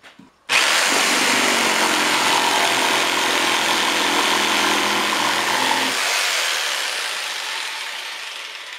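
A jigsaw starts abruptly and cuts through wood with a loud, steady, buzzing rasp for about five seconds, then its motor hum drops away and the high cutting noise fades slowly.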